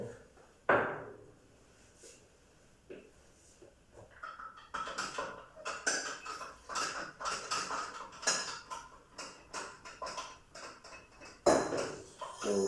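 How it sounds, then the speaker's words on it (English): Vigorous stirring of a lignocellulose plant biomass mixture in a lab vessel, rapid irregular clinks and scrapes that build into a busy rhythmic clatter, close and quiet, with no voices. "we stir vigorously at at first until homogeneity is attained."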